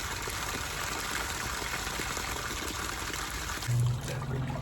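Water runs steadily into an ice cold bath, a constant hissing, splashing flow heard up close at moderate loudness, with a brief low hum near the end.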